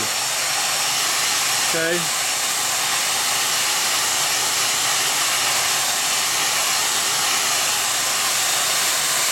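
A hair dryer blows steadily on freshly made clay teapot feet, a constant loud whooshing hiss that runs through the whole stretch, with a brief spoken word near the start.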